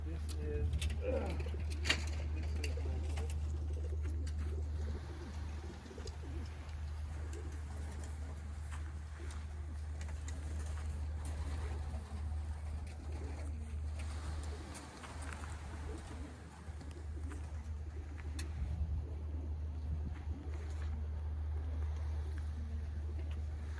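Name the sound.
racing pigeons cooing and flying around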